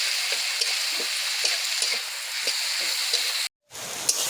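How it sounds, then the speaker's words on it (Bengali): Wild taro greens stirred and dry-fried with spices in a pan: a steady soft sizzle with repeated light scrapes of the spatula, a short dropout near the end, then the frying resumes. "কচু শাকটা নেড়ে নেড়ে কিন্তু একদম শুকনো করে নিচ্ছি"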